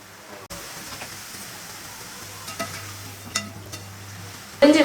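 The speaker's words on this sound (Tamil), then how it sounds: "புரிஞ்சு விட்டதுமே எண்ணெய் வந்து பொங்கிட்டு இருக்கும்" Omapodi dough pressed into hot oil for a Diwali snack, giving a soft, faint bubbling sizzle with scattered small pops, then a sudden louder clatter in the final moments.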